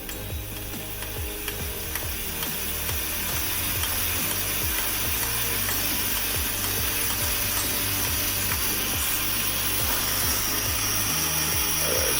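The fuel tank of a Coleman Dual Fuel 533 camp stove being pumped, a rapid run of rhythmic clicking strokes that continues steadily and close throughout, with no speech.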